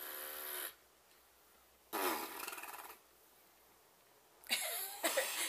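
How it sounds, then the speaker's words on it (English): A seven-month-old baby blows raspberries, making wet, buzzing fart-like sputters in three separate bursts with quiet gaps between them, close to the listener. "It's called blowing a raspberry."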